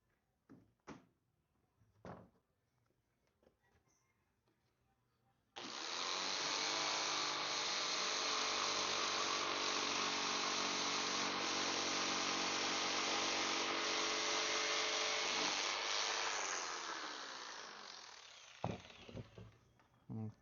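A power tool runs continuously for about twelve seconds, tightening a piece on a wooden shot board made from scrap wood, loud and close with a steady whine that winds down at the end, preceded by a few knocks and handling sounds.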